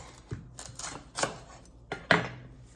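A knife cutting through fennel, four or five sharp, separate chops at an uneven pace, close and fairly quiet with no talking.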